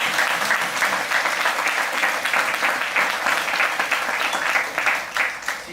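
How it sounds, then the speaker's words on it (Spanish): A church congregation claps along during a Spanish-language sermon, steady rhythmic applause that fills the whole stretch at an even level with no one speaking over it. "¿quiere dar palmas al Señor?"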